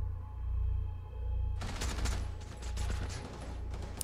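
Rapid automatic gunfire from a weapon in Rainbow Six Siege starts suddenly and rattles on in a continuous volley, over a constant low hum from the game.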